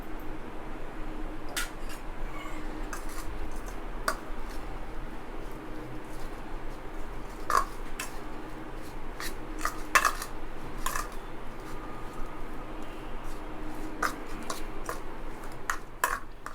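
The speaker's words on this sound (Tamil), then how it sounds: "இந்த கலவைக்கு தேவையான உப்பு போட்டு இதை நல்லா மிக்ஸ் பண்ணி எடுத்துக்குவோம்." Paneer and potato stuffing is mixed with salt in a bowl, a run of irregular clinks, scrapes and soft taps of a spoon against the dish over a quiet background hum.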